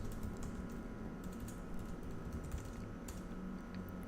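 Fingers typing commands on a computer keyboard, a close run of quick, uneven key clicks and taps with no talking.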